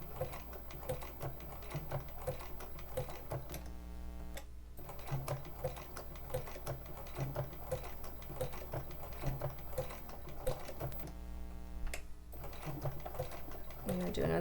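A sewing machine stitches a raw-edge appliqué in quick, steady mechanical chatter that runs almost the whole time, broken by two short pauses, with soft talk now and then in the background.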